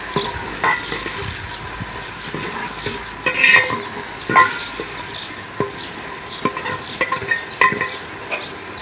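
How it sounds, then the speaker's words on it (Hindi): Chopped tomatoes and green chillies frying with onions in a pan for a Pakistani tori sabzi, steady sizzle throughout with repeated scraping stirs and occasional spoon knocks, close and fairly loud. "अब हम इसमें कटे हुए टमाटर और सब्ज मिर्च डालेंगे।"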